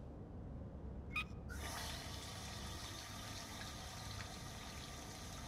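A toilet flushes in the Duke Nukem Forever video game: a short click, then a steady rushing gush of water that keeps running, fairly quiet and alone without talk.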